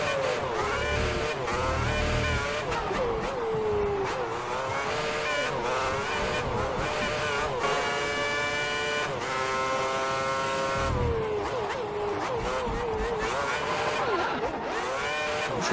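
A Formula 1 race car in a 2010 Bahrain racing video game screams through rising and falling gear changes, loud and continuous, with engines whining throughout.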